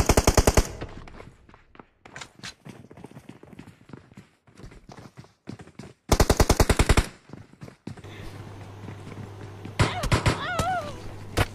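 Gunfight in BGMI with an M4 rifle: rapid automatic bursts crack loudly at the start and again midway, with scattered single shots and footsteps between, and a voice chatters over the final stretch.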